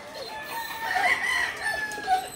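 A Boston Black rooster crows once, a clear strained cock-a-doodle-doo rising and falling over about two seconds, fairly close and alone.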